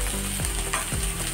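Spice paste of coriander, ginger, cumin, garlic, salt and turmeric frying steadily in a pan for Bengali chicken kosha, a dense continuous sizzle with brief stirring scrapes.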